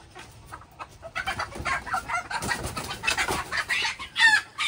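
Large Rhode Island chickens clucking in a coop, a busy run of overlapping clucks and squawks close by that grows louder partway through, with no talking.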